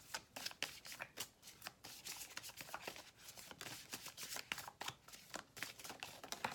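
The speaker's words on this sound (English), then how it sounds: "doing a little bit more shuffling on camera" Tarot cards shuffled by hand give a quick, soft riffling and slapping in short irregular bursts, close and fairly quiet, with no talking.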